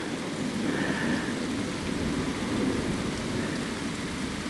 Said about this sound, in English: and enjoying the beautiful rain